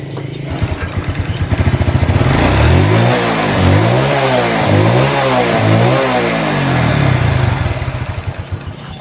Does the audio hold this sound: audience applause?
no